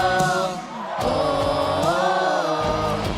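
Pathfinders (Desbravadores) crowd shouting back in answer to a leader's call, a loud, brief burst of massed yelling and whoops with voices rising and falling together.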